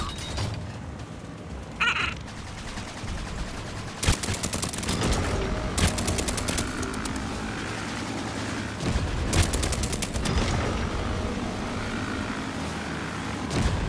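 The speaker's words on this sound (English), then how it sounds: "And we are taking fire." Gunfire in the video game TrailMakers, several sharp loud bursts standing out over a dense, constant roar of engine and battle noise, repeating at irregular intervals.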